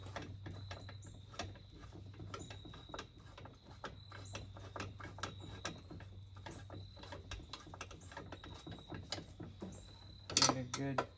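A ratchet or wrench tightens bolts on a Stihl BR 800 backpack blower muffler, making a dense run of quick metallic clicks and ticks close by, with a sharper clatter near the end and a voice talking now and then.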